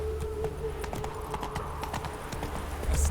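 Roach, the horse in The Witcher 3: Wild Hunt, trots with steady clip-clopping hooves, moderately loud over an ambient game soundscape, with no speech.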